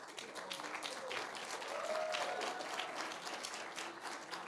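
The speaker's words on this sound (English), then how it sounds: "we actually wanted to have a round of applause again for Aviana" Workshop audience applauding a participant, a soft, steady patter of many hands with a voice briefly heard over the clapping before it eases off.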